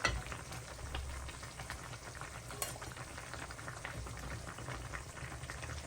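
Fish goes into a pan of soft, well-cooked rhubarb and simmers, giving a faint, steady bubbling sizzle with light stirring scrapes and an occasional small clink.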